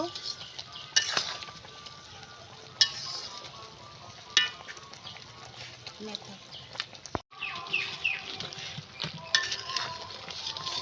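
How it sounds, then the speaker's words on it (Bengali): Mango pickle is stirred in a pan, a spoon scraping and clinking against the metal over a soft sizzle, with a few sharper knocks along the way. "আমার এই যে জাল উঠে গিয়েছে, এখন নেড়ে নেব।"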